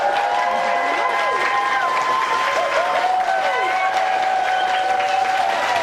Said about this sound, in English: Big round of applause for Donna and the people at Swiss House.